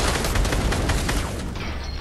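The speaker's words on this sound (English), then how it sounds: "But still, good shooting there, Iris." Rapid bursts of gunfire from a Fortnite match in Salty Springs crackle loud and dense without pause, fading slightly toward the end.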